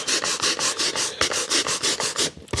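Fast, steady back-and-forth brush scrubbing on carpet, loud and close, with a brisk even rhythm of bristly strokes.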